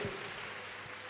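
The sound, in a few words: congregation applauding in church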